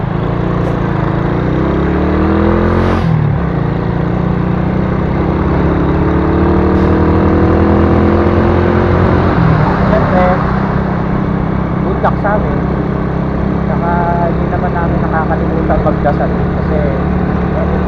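Heavy trucks pass one after another on a highway toward Lucena, their engines droning loud and close, changing in pitch as they go by, with road rumble running throughout and a voice speaking over it.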